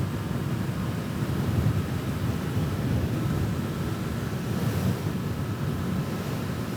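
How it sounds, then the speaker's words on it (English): Heavy wind roars and buffets continuously around a rider on a Honda SCL500 motorcycle with no windshield, cruising at 70 mph in fourth gear. The rumble is loud, constant and close, with no talk over it. "at 70 miles an hour, the wind beats the crap out of you with no windshield"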